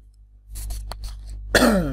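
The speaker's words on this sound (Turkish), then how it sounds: "Öksürüğüm konuşmama izin verirse eğer." A single harsh cough bursts out near and loud after a stretch of quiet shuffling, with a low steady hum underneath throughout.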